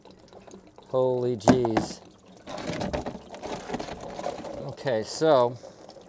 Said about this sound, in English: we've got that coming out, dripping down the side here.